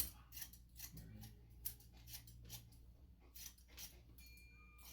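Scissors snip hair during a medium-short, medium-high tapered haircut, with quick, quiet, close metallic cuts in irregular clusters over a soft room background.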